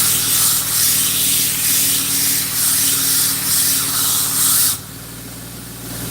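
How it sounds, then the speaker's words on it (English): A belt grinder grinds a custom knife blade, a loud, steady abrasive hiss with a gently pulsing rhythm that runs for several seconds before the blade comes off and the sound drops away abruptly. "Let's just grind this out real quick, you guys."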